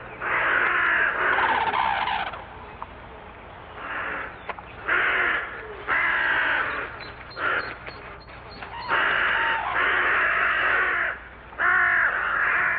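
Carrion crows in a Japanese marsh near Mount Fuji give repeated harsh, raspy caws in bursts, loud and close, with short pauses between calls.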